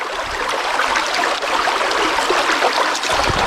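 Water streams through a gold sluice fitted with matting in an Irish river, a steady close trickling rush with small splashes and gurgles throughout, no talking.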